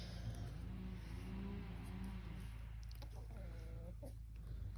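A live chicken clucking nearby in a quiet rural setting, a few soft, faint clucks and short calls spread over several seconds against low background hum.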